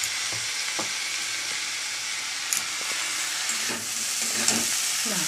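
Eggplant and drumstick flowers fry in a pan with a steady, close sizzle and hiss, broken by occasional faint stirring clicks and scrapes.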